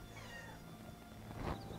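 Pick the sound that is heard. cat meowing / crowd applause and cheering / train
cat meowing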